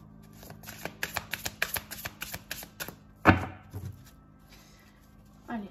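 Tarot cards being shuffled by hand, a quick run of about a dozen crisp riffling snaps, followed by a louder thud and a few softer handling sounds close by.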